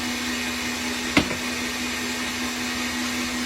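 An electric mixer beats egg whites for a coconut pie, giving a steady, loud, close motor whine with a single brief knock partway through and no voices.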